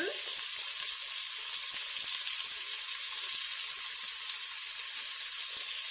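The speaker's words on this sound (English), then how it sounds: "So we'll let this have a quick sear." Meat searing in a Pampered Chef Quick Cooker gives off a steady, dense, loud sizzling hiss that holds evenly throughout, with only faint ticks beneath and no voices.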